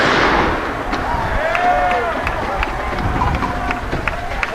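Fireworks bursting during street unrest at night, with sharp pops and crackles scattered through the scene, a whistling rise, and a noisy crowd and shouting voices filling the background.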